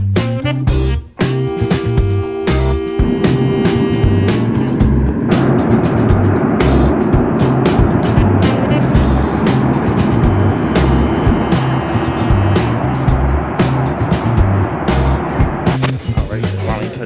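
A passenger airliner lands in Atlanta and taxis. A loud, steady cabin rumble roars continuously after a brief bump near the start.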